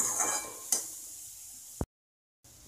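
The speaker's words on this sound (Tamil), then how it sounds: "உப்பையும் போட்டு நம்ம இதை வதக்கிடுவோம்." Carrot sautéing with salt in a pan: a soft sizzle broken by a couple of sharp stirring scrapes, then a brief cut to silence before the quiet sizzle returns.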